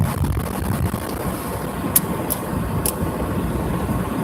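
Air roars through the windows of a moving car whose rubber window seals have been removed, a loud, steady rush over low road rumble with a few faint clicks.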